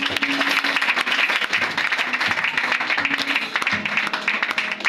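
A church congregation applauding together in a chapel service, with dense continuous clapping throughout and scattered voices mixed in.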